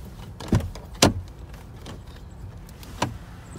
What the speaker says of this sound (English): watch what happens when I open up the door